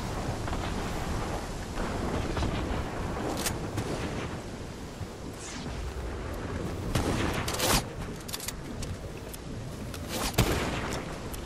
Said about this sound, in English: they're shooting right there